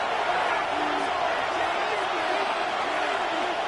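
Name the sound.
stadium crowd noise in Madden football video game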